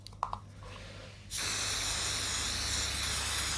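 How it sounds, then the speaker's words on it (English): A few light handling clicks, then a sudden, steady aerosol hiss of Super 10 switch cleaning lubricant sprayed onto a remote control circuit board starts and continues evenly, close and loud. "spray the whole lot with a bit of Super 10 switch cleaning lubricant"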